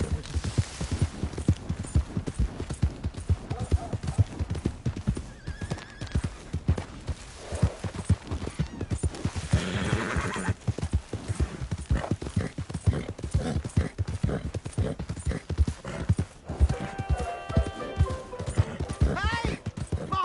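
Rapid, continuous hoof clip-clops from a galloping horse, loud and rhythmic, with a few voices and game effects mixed in.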